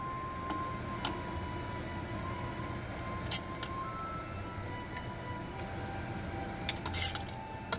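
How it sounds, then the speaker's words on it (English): A spoon clicks and scrapes against a pan while stirring sour cream into gravy for Norwegian meatballs. Soft, scattered ticks sound over a quiet kitchen hum, with a small cluster of clinks near the end. "stir it until it's all mixed in with the gravy"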